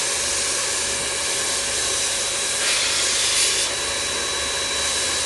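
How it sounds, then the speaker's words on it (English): A sprayer applies a textured silicate wall coating with a steady, continuous hiss that stays even throughout, swelling slightly midway. "you could open up or close the size of the spray"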